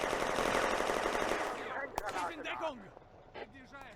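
Rapid machine gun bursts in the WWII strategy game Firefight on the Eastern Front, a dense rattling volley at first that fades into scattered shots, with a voice speaking over the later part.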